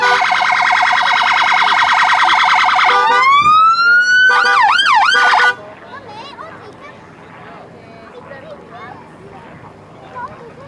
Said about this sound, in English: Oh, we've got another police car coming in.